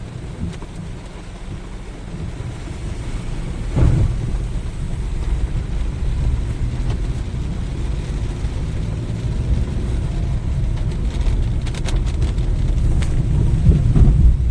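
Heavy rain pours steadily in Jim Corbett forest, with thunder booming and rolling around it, one sharp rumble standing out early and the downpour hissing on without a break.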